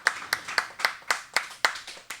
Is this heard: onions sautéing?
no